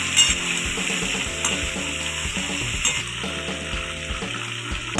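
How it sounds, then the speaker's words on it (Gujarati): Peanuts and diced potatoes frying on a low gas flame, a steady oily sizzle with light crackle that fills the pan throughout, close and continuous with small stirring bumps and no talk. "આપણે સિંગદાણા નાખ્યા પછી આપણે 1 થી 2 મિનિટ આને સરસ પાકવા દઈએ ધીમા ગેસ ઉપર।"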